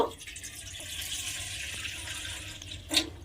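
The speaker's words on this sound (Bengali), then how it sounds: "আর এর মধ্যে আমি প্রথমে জল দিয়ে দেব" Water pours steadily into a kadai set on a gas stove for boiling chana dal, a continuous splashing stream capped by a brief louder splash near the end.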